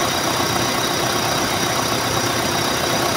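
A Mitsubishi Adventure engine runs steadily with a faint squeal while its RPM is adjusted, a loud, continuous close-up drone with no talking.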